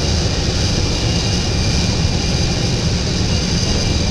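Jet engines of an Airbus A380 in Emirates livery taxiing in a mobile flight simulator game on Android, a loud steady broadband roar and whine holding constant throughout with no talk.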